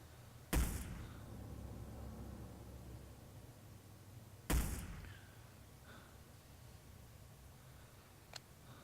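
Two sharp sniper rifle shots crack out in Hitman: Blood Money, several seconds apart, each with a brief echoing tail over a low ambient hum, followed by a faint click.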